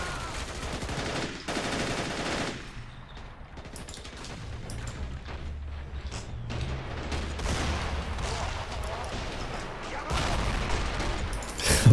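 A video game battle where bursts of gunfire and rattling machine-gun fire crackle through a dense mix, with heavy booms of grenades and a low engine rumble underneath.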